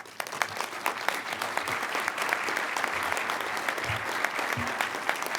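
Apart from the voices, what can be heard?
audience applause at awards dinner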